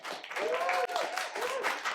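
Audience at a library poetry slam applauds briefly, a dense burst of clapping mixed with cheering voices and whoops over two seconds.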